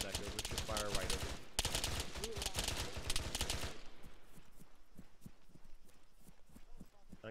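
Gunfire in the video game Arma 3 crackles in rapid bursts under steady radio chatter, then continues as sparser, fainter shots once the talk drops away.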